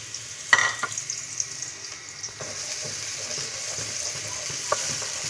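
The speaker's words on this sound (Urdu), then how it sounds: "اب اس میں ہم ایک چھوٹا کٹا ہوا پیاز تھوڑا سا ڈال دیں گے اس کے اندر، اور اسے فرائی کر لیں گے" Chopped onion fries in hot oil in a kadai with a steady close sizzle. Occasional stirring knocks and scrapes break through the sizzle, and no one talks.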